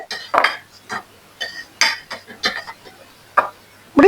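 A metal spoon stirs dried chillies, mustard seeds and cumin in a pan, giving a run of separate clinks and scrapes at an uneven rhythm, close up and fairly quiet, with no talking.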